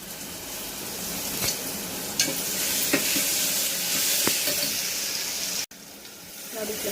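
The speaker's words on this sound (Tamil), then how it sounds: "இஞ்சி பூண்டு விழுது இது ஆட் பண்ணி வதக்கிக்கோங்க" Tomato and ginger-garlic paste sautéing in a pan for a hotel-style kurma, with a continuous bright sizzle broken by a few sharp spatula taps, close up, ending in a sudden cut to a quieter, duller hiss.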